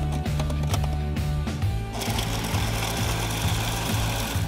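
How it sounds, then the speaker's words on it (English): A food processor chops cooked bacon with a loud, close motor whir and rapid rhythmic pulsing, the pitch and texture shifting midway as the bacon breaks down. "take our cooked bacon and add it to our food processor"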